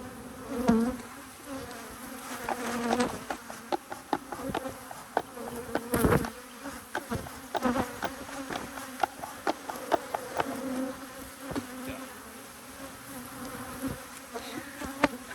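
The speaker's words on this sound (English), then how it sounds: "We got bees in the inside of the box." Honey bees buzz densely around an open hive box during a queen-excluder split, a steady close drone with frequent sharp bursts and clicks of frames and equipment throughout.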